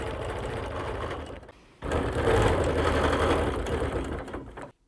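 A sewing machine stitches a quilt in a steady fast mechanical whir, stopping briefly after about two seconds and then running on loud and close before cutting off.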